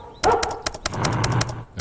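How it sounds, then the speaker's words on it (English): A loud dog in the video game After You barking in a quick run of sharp yelps and barks, close and insistent, with a brief whine, no talk over it. "try dog. It's a loud dog."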